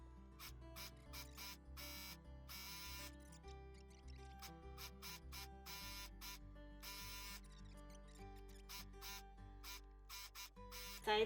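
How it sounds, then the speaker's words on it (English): A sewing machine stitches the side seam of a cotton romper hoodie in rapid mechanical bursts, running in short runs with brief pauses between, fairly close and steady. "sewing machine, and we're going to do our side seam each side"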